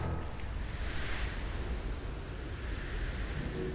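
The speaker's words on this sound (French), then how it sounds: "Les vagues sont beaucoup trop fortes." Strong ocean waves surge in a children's cartoon, a steady, dense wash of surf and wind roar that fills the whole stretch without pause.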